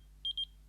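A Motorola pager gives four quick, high, evenly spaced electronic beeps in two pairs over a faint low hum, with no voices.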